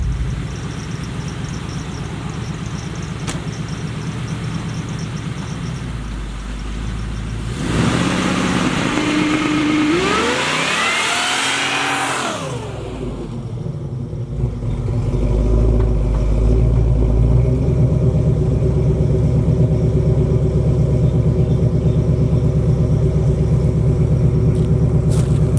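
A supercharged Oldsmobile Cutlass on its first drive after a tune, recorded outside in the cold: a steady close engine rumble with a sweeping rev partway through, then a louder, heavier drone as it pulls away.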